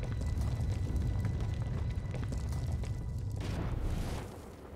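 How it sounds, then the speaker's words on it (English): Explosion in Star Wars: The Old Republic, a rumbling, booming blast with dense low-end roar lasting several seconds before easing off, loud and alone without talk. "I just got hit with an explosion"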